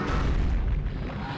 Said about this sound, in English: And self-destruct explosion!